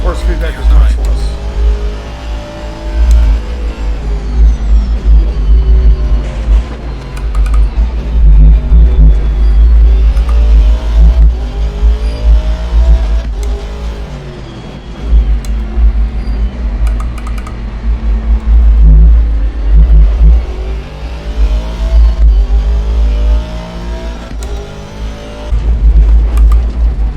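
Race car engines in the video game Assetto Corsa Competizione, a loud continuous engine note rising and falling through gear changes and revs, with a voice talking over it at times.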